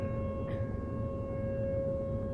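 Tornado warning sirens sound during a morning test in Omaha, Douglas County, Nebraska, heard as a steady, sustained wail over a dense low rumble of background noise.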